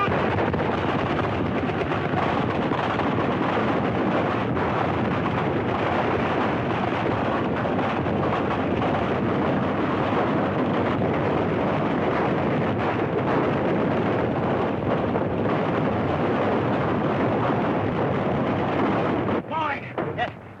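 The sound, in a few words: battle gunfire and explosions in war movie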